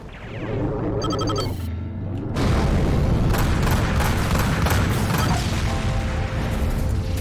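Booming explosions and rapid bursts of gunfire-like blasts in the space-combat game Rebel Galaxy Outlaw, loud and continuous after a brief mechanical beeping passage, with missile impacts rumbling under dense layered combat noise.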